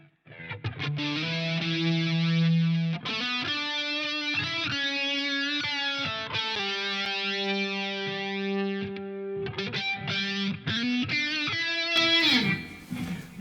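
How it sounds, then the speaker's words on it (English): Electric guitar through a GarageBand high-gain amp simulation with a phaser effect, playing loud, heavily distorted sustained chords and notes that shift every second or two, with no talking. "sounds like I've got some sort of phaser or something going on here."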